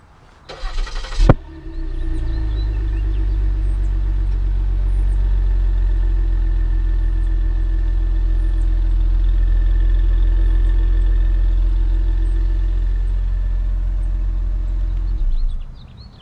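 A 2016 Ford Taurus SHO with the 3.5L EcoBoost twin-turbo V6 is remote-started with a loud burst of cranking, then settles into a steady, deep idle for about fourteen seconds before cutting off.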